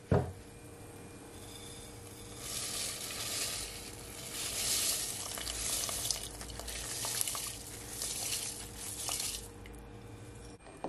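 Rice tipped into a hot pot of oil for Jamaican vegetable rice sizzles in a crackling surge, rising after a clunk and fading near the end, fairly faint, without speech.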